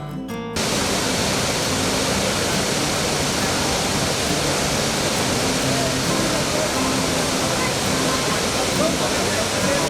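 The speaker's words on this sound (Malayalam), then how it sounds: "ഈ വെള്ളച്ചാട്ടം ഒരുപോലെ കണ്ട് ആസ്വദിക്കാമെന്നതാണ്" Iguazu Falls on the Brazil–Argentina border roars as a dense, steady rush of water, loud and unbroken throughout, with no voices heard.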